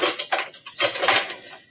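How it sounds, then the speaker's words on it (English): Cooked potatoes being stirred into a pot with a slotted spoon or fork, producing a run of close metallic scrapes and clanks in uneven bursts, with no voices. "And then stir in my potatoes."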